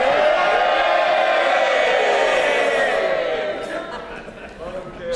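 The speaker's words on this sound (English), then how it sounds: "This is the moment for cheering." MPs cheer in the House of Commons during the 2024 Budget, a loud, dense roar of many voices that holds steady and then eases slightly toward the end.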